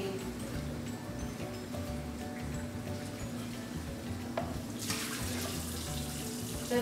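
Water runs steadily from a kitchen tap in a home during holiday dinner preparation, a continuous moderate splash that turns brighter and harsher near the end, with no talking.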